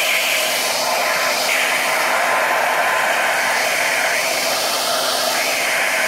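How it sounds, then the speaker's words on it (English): A household hairdryer heats the back glass of a Samsung Galaxy S6 Edge, blowing a steady, loud, unbroken whoosh of air throughout with no talk. "You can use a hairdryer or heat gun, a household hairdryer."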